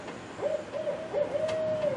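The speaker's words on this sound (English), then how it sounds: "there's an owl over there." An owl hoots in a series of clear, wavering calls, several short notes followed by a longer drawn-out one, moderately near outdoors with no talk.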